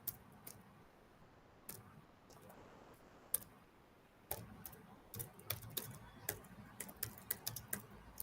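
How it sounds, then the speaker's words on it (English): Computer keyboard typing during a live collaborative coding presentation, with scattered soft key clicks at first, then a denser run of quick, fairly close taps near the end, with no voice over it. "So as you can see, as I'm typing"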